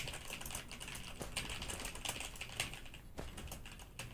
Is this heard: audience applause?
no